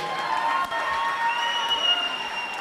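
Audience at a church doctorate conferral ceremony clapping, a steady, moderately loud wash of applause with crowd noise throughout.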